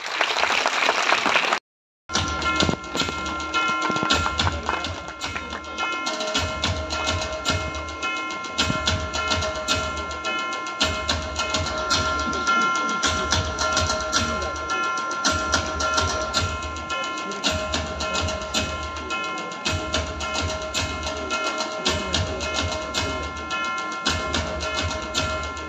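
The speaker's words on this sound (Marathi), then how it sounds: "एकदा जोरदार टाळ्या व्हायला पाहिजे" Audience applause at an event honouring people from Konkan fills the room, a loud, sustained clapping crowd after a brief pause near the start, steady and dense throughout.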